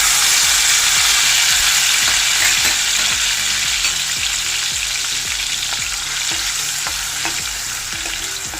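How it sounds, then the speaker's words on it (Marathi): Green masala paste fries loudly in a ladleful of hot oil in a pot for a wet bombil curry, a dense, continuous sizzle broken by regular scraping strokes of stirring, with no talk. "आता तेल गरम झालं आहे. आपण त्यामध्ये हे हिरवं वाटण टाकून घेऊया."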